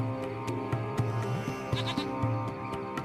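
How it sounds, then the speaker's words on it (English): A small goat hiding under a hut in the video game Lost Horizon bleats in short repeated calls over a steady musical background, fairly close and clear. "It's a small goat. It appears to be hiding underneath the hut."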